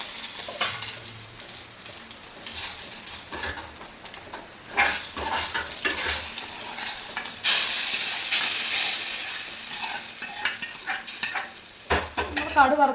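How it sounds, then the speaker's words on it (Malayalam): Dried red chillies and curry leaves fry in hot oil with mustard seeds in a Kerala kitchen, giving an intense crackling sizzle and spluttering hiss that swells and fades, punctuated by stirring scrapes, with no voices. "വറ്റൽമുളകും കൂടെ മുറിച്ചിട്ട് കൊടുക്കുന്നു. അതിൻ്റെ കൂടെ തന്നെ കറിവേപ്പില."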